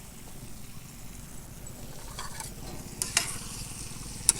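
Chicken with coriander powder, turmeric and whole garam masala being stirred and fried on a tawa, a steady close sizzle with scraping stirs and a few sharp clinks of a utensil near the end, no voices.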